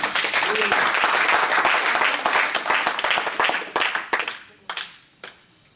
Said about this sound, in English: Clap your hand for Jesus.